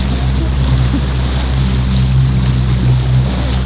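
Rented motorboat cruising on Lake Como, Italy, its engine droning steadily and loudly up close, with water and wind rushing around the hull throughout.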